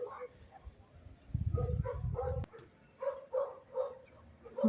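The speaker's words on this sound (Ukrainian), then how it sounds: "Як завжди знімаю, починають собаки себе проявляти." Dogs bark outdoors around a residential street: a burst of several sharp barks at moderate distance, followed by more spaced, yapping barks, with faint human sounds in the background.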